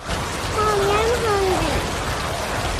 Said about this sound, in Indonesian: Namun tiba-tiba hujan mulai turun dengan deras.